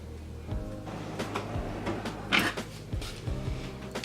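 A kitchen drawer holding plastic storage containers slides open with soft rumbling thumps and light rattles, close and moderately loud.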